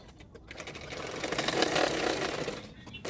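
Sewing machine stitching a layer of a designer long frock, a soft whirring run that swells in the middle and eases off, fairly quiet and close.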